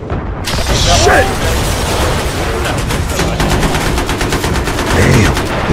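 Loud, rapid automatic gunfire in the Battlefield 3 video game, rattling bursts sustained almost throughout with mechanical clatter, while a player talks over it.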